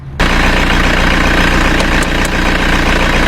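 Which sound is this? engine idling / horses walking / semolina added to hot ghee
engine idling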